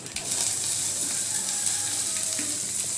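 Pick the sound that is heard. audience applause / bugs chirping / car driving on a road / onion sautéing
onion sautéing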